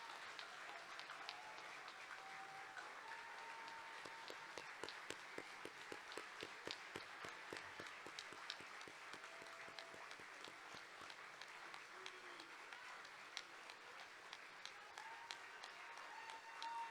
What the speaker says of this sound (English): a big round of applause for the graduating class of 2023